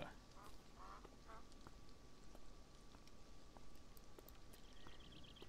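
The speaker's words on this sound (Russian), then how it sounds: "Утки у нас с тобой бесятся, как всегда, там внизу что-то крякают, плавают, веселятся." Ducks quacking below in the video game Beyond Eyes, a few faint, distant quacks scattered over a steady outdoor ambient bed, with light footstep-like ticks.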